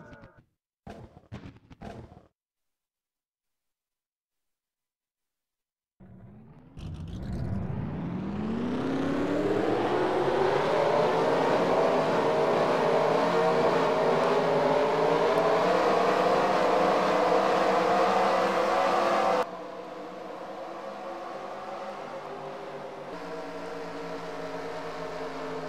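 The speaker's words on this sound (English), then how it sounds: "Drivers, start your engines!" Stock cars in a racing video game fire up for the Home Depot 400 at Arizona: a few short bursts, a pause of silence, then engines catch and rise into a loud sustained drone that steps down slightly near the end.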